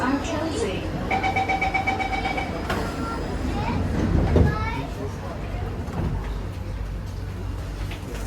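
A Singapore MRT train on the Thomson-East Coast Line runs between Kovan and Changi Airport, a steady interior rumble and hum with a brief rising whine and a louder swell midway.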